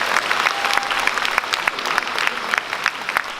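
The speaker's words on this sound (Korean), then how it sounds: "하나님께 영광의 박수 좀 쳤으면 좋겠습니다" An audience in a church hall applauds, a dense sustained burst of clapping heard close and evenly throughout.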